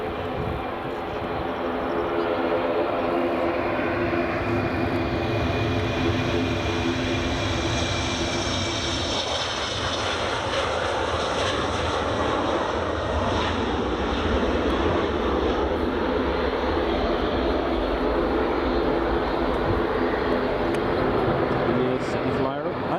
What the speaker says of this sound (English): I've got British Airways City Flyer just rolling.